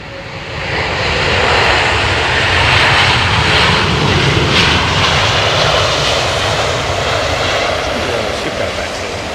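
An airliner lands in rain at London Heathrow Airport, its engines producing a loud, steady broadband roar that swells slightly and holds throughout without pause.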